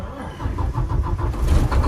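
A 2014 Volvo VNL64T300 truck engine cranks with a rhythmic pulsing and catches into a deep, steady rumble close by, growing slightly louder toward the end.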